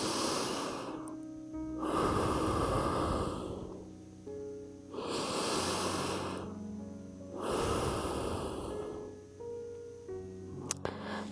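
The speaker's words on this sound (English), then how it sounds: "Remember to take nice deep breaths." Slow, deep breaths during a yoga stretch in a sinus-focused session, four long inhale-exhale cycles that are close, steady and fairly loud, with no talking.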